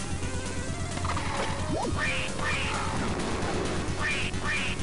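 Cartoonish duck quacks in the kart racing game Wacky Wheels, several short rising squawks in pairs over a busy, constant engine and game-noise bed.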